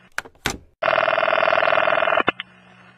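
A telephone is dialed to call the police: a few sharp clicks, then a steady, loud electronic tone holds for about a second and a half and cuts off with a couple of clicks.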